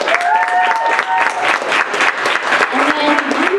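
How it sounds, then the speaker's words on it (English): Audience applause for poetry slam performers at a To Write Love On Her Arms event, a steady crowd clapping throughout with some voices and tonal sounds mixed in. "how about we give a round of applause to everybody who performed?"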